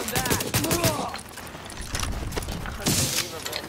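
Blind-fire gunshots ring out in The Division video game as a rapid, loud burst of automatic shots and crackling impacts, with a voice talking over the shooting and a second burst near the end.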